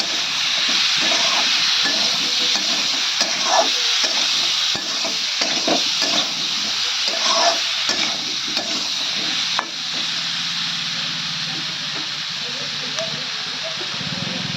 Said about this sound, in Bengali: এখন আমি ভালো করে নেড়ে দেবো। ভালো করে কিন্তু এভাবে কষিয়ে নেব